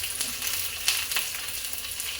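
Onions, smashed garlic and curry leaves fry in hot oil for a tempering, giving a steady close sizzle with faint stirring scrapes and no talk.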